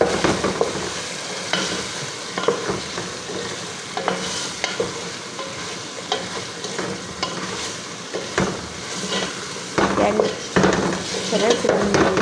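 Food sizzles loudly in a pan while a utensil stirs and scrapes against it repeatedly, with a steady frying hiss under frequent knocks and clatter.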